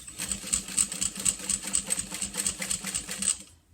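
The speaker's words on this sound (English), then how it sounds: "we're going to slowly top stitch right back around" A sewing machine slowly top stitching around fabric, a steady rapid whirring chatter of evenly spaced needle strokes running close and clear for about three and a half seconds before stopping abruptly.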